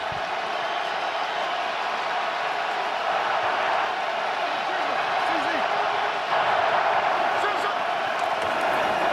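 Steady roar of a stadium crowd during a 2021 AFC Wild Card football game between the Las Vegas Raiders and Cincinnati Bengals, a dense, continuous wall of noise with brief swells and scattered whoops.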